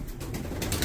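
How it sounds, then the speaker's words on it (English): Pigeons cooing inside an abandoned building, a soft low rumbling coo repeating close by over about a second, with a faint airy background. "this is pigeon central here, mate"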